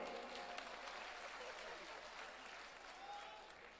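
Audience applause at a political rally stage, a dense steady patter of many hands clapping throughout, with crowd noise beneath and no clear speech.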